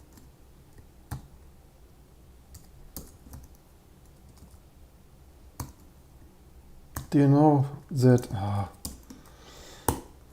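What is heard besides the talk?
typing on a computer keyboard, German ISO Apple layout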